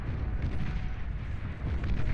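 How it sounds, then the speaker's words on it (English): The Pitbull cannon in the strategy game Beyond All Reason fires amid dense, rumbling explosion noise, a continuous low booming wash of blasts with no distinct separate shots. "Pitbull cannon, firing away now at a bunch of scout spam"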